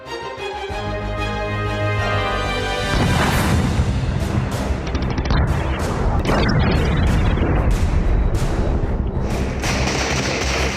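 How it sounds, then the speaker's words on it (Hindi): A rumble gives way to a barrage of heavy booming blasts, like artillery cannon fire, some overlapping, loud and continuous for several seconds. "तभी सुबह 4:35 पर पूरा इलाका तोप की आवाज से दहल गया।"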